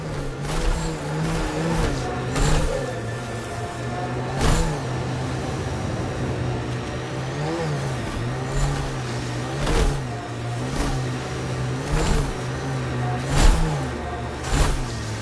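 A vehicle in the video game Mass Effect Andromeda drives and revs, a steady mid-pitched engine drone with repeated surges and sharp bumps, loud and alone without talk.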